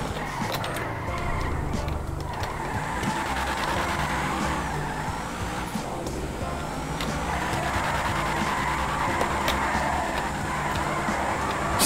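A car drifts in GTA 5, engine roaring continuously while tyres squeal and skid throughout, loud and close with no pause.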